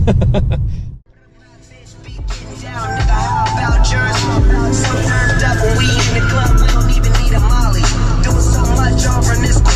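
Cabin road noise inside a moving Lexus IS 250, a steady low rumble that drops out briefly near the start and then returns, with music or other tonal sounds running over it.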